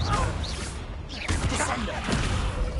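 Fiery blast impacts from the Confringo spell in Hogwarts Legacy, dense crashing and whooshing bursts that run continuously at high loudness through a busy game battle mix.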